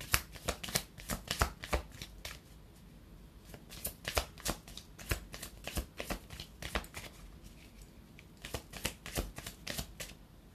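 Tarot cards are shuffled and drawn by hand, a close riffling patter in quick bursts with short pauses between them, fairly quiet and without talk.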